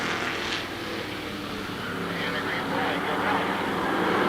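Race cars at Shadybowl Speedway roar together at the start of the Neal Sceva Memorial race, a steady, dense engine drone that holds loud and unbroken throughout, with a commentator talking over it.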